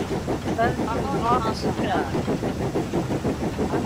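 A steam locomotive picks up speed in Train Simulator on the Settle–Carlisle line, a steady rumbling engine drone with faint rhythmic chuffing running under continuous conversation between players.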